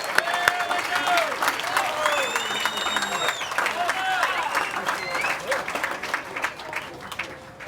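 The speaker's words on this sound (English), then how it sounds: "One more round of applause for Uncle Wendell." Guests at a celebration of life at Ala Moana give Uncle Wendell a round of applause, steady dense clapping mixed with cheering voices and chatter throughout.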